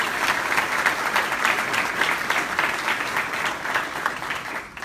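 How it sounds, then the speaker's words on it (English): Applause from the audience at a scholarship gala fills the room, steady and dense clapping that carries on evenly for several seconds. "Please help me in giving another round of applause to Ms. Mahmoud."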